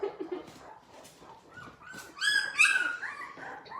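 Ten-day-old Labrador puppies whimper and squeal in a high, thin chorus of repeated yips and whines, close by and rising louder toward the end.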